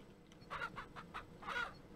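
Chickens in the farming game Ranch Simulator give a quick run of soft clucks followed by a second short burst, quiet and close, with no speech.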